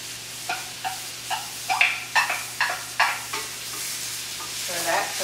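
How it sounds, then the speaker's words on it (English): Butter and shallots sizzle steadily in a small saute pan over medium-high heat on the stove, with a regular rhythm of spoon scrapes and stirring strokes over a faint background hum. "a small saute pan on the stove with medium-high heat"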